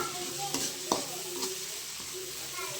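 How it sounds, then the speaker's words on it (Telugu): Egg omelette curry frying in a pan, giving a soft steady sizzle with a few clinks of stirring against the pan. "సో కాసేపు ఫ్రై చేసేయాలన్నమాట"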